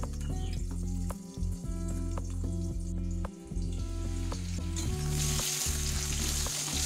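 Potato pieces fry in oil for a cauliflower and fish curry, crackling and sizzling close up with brief dips and clinks of utensils, then a brighter surge of spitting near the end.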